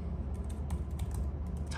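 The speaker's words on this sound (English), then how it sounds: "Type in Pokemon" Rapid, quiet clatter of keys being typed on a computer keyboard, a short burst of close, irregular clicks.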